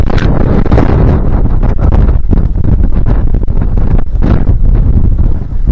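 Loud, cold gusting wind on the Appalachian Trail near Chestnut Knob buffets the microphone in heavy, roaring bursts with no pauses, filling the whole scene.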